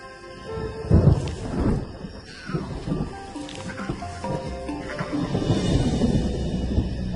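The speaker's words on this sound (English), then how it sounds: "the rumble of thunder interrupts the lion's reverie" Thunder rumbles through a balmy night rainstorm on the African savanna, deep rolling booms swelling and fading over a steady hiss of falling rain.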